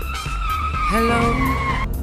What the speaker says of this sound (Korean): 일단 쌩쌩 달리다가 브레이크를 잡아볼게요